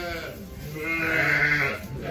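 Lambs and ewes bleating on a sheep farm, a sustained, wavering bleat held for about two seconds, close and fairly loud, with faint farm background around it.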